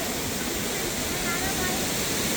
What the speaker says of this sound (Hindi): ऐसा वाटरफॉल देखकर कौन नहीं रुकेगा यार